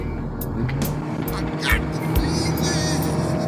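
Ford Crown Victoria engine revving hard while accelerating in one gear, a steady loud roar throughout with people talking over it.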